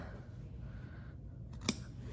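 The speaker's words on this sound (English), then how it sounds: "when I cut, I need to be using very sharp scissors, and I need to only be using the tip of those scissors" Sharp scissor tips make a single quick snip through fabric while clipping triangles from a curved seam allowance, faint against a low room hum.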